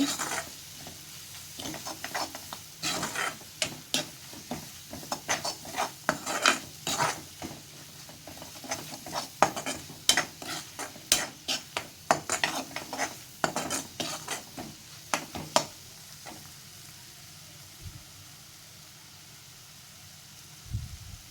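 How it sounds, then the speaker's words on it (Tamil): Masala sautéed over low heat in a pan: repeated spoon scrapes and metallic clinks against the pan over a soft sizzle, irregular and close, then quieter toward the end. "சிம்மில் வச்சு கலந்துக்கோங்க, இல்லைன்னா மசாலாலாம் கரிஞ்சிடும்"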